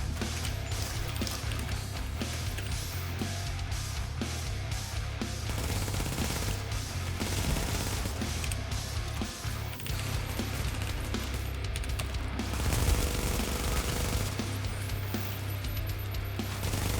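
SMG fire in the shooter game The Division, rapid bursts of automatic gunfire crackling again and again over a low steady background hum, with no speech.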